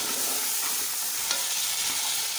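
Onion, tomato and chicken masala for pulao being stirred in a pot, producing a continuous soft sizzle with faint scraping, moderately quiet and steady.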